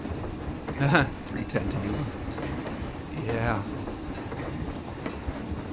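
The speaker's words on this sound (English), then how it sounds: "I guess I should hop back on that train now" A roller coaster train in the video game Planet Coaster rumbles and clacks steadily along its track, with a voice speaking briefly over the ride noise.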